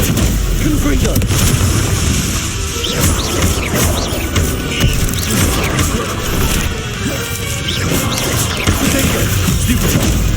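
Confringo blasting curses and other spell hits explode in the video game Hogwarts Legacy, making repeated booms, crashes and impacts in a dense, loud battle mix while a voice speaks over the action.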